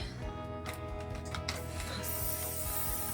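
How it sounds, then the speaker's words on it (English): Short bursts of hissing cooking spray from an aerosol can onto a cookie sheet, steady and close, over a low background hum. "Spraying down the cookie sheet."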